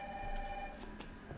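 A telephone rings inside the Resident Evil 3 video game, a steady electronic trill with a sustained tone held near and moderately loud through most of the short stretch, with faint background game ambience and no voices.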